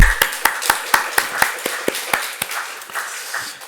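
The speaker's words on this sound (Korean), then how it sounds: "박수 한번 쳐드립시다" Church congregation clapping in unison at a Wednesday service, a run of sharp, evenly spaced claps roughly every quarter second that loosen into scattered applause, fading toward the end with no talking over it.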